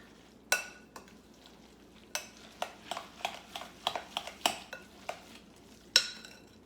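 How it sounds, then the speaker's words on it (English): Dill spread is mixed with salt and lemon pepper seasoning, a utensil tapping and scraping against a bowl in a series of sharp, close clicks, irregular at first then quicker, with no talking. "So I'm just going to mix all that up."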